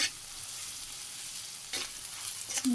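Onion, ginger paste, green chilies, turmeric, chili powder and salt sizzle steadily in a pan, a constant high frying hiss with two brief spatula scrapes near the end, no voices.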